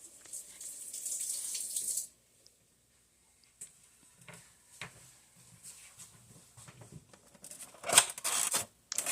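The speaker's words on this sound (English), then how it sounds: "And gotta go rinse my hands real quick." Tap water runs into a kitchen sink for about two seconds while hands are rinsed, a steady close hiss that cuts off sharply, followed by quiet clinks and handling sounds and a brief later splash.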